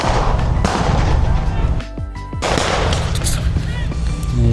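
Loud gunfire and booming explosions at the Capel Military Show reenactment, staged as a German versus American battle. Dense, overlapping rifle and machine-gun bursts continue almost nonstop, with one brief lull midway, and faint crowd voices underneath.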